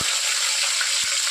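Bay leaves and cloves frying in hot oil for chicken biryani give a steady, close sizzle that fills the whole short moment, with two soft low thumps at the start and near the end.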